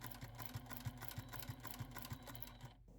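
Domestic sewing machine stitching binding along the very edge of a quilt, a steady mechanical hum with regular needle clicks about three per second, running close and alone until it stops near the end.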